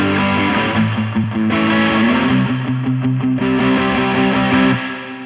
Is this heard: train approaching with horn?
no